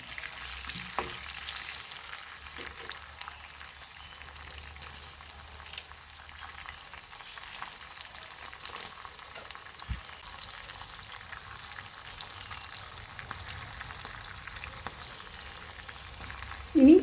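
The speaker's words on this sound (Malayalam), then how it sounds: "ഇനി ഇതിലോട്ട് നാല് പച്ചമുളക് നെടുകെ കീറിയത് ഇട്ടു കൊടുക്കാം ഒന്ന് ഫ്രൈ ആയി വരണം" Slit green chillies fry in hot oil in a pan, a steady low crackle and sizzle that carries on evenly throughout, close but quiet, with a small clatter near the end and no speech.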